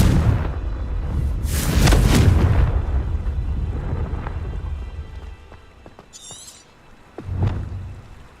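An explosive Confringo spell detonates in Hogwarts Legacy with a loud, rumbling blast that swells and lingers for about a second, followed by scattered crackles, a brief bright sparkle and a later thud.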